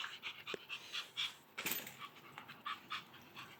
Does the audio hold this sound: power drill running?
no